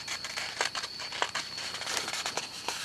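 Sheets of textured ledger paper from a Michaels paper stack being handled and flexed close up, giving a steady run of dry crinkling and rustling with a few sharper crackles and no talking.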